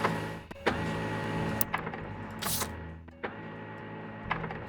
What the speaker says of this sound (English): Oh, the sound is actually coming from the printer.